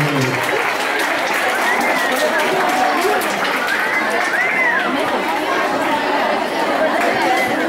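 Applause and crowd chatter fill a school Fiestas Patrias celebration in Cerro Navia, Chile, steady and fairly loud throughout with voices mixed into the clapping.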